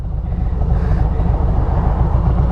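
A cruiser motorcycle engine, a Harley-Davidson Road Glide or Indian Challenger, idles close by with a steady, deep, throbbing rumble that holds level throughout, with no voices.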